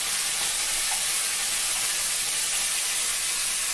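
Mung beans frying in a pan: a steady, loud, close hiss and sizzle that holds unbroken throughout, with no talk.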